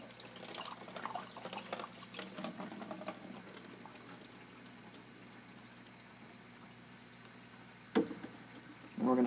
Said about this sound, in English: Dump out the developer